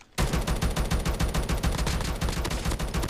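Rapid automatic fire from the Oden gun in Call of Duty Mobile: a sudden loud burst of close, evenly spaced shots that keeps going without a break.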